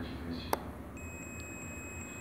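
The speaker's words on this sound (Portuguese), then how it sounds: "O bip sonoro do multímetro." A pair of steady, high electronic multimeter continuity beep tones hold continuously for about a second, over faint background noise and a brief click, while testing a motorcycle charging relay.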